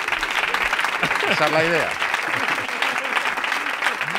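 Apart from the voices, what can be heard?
studio audience applause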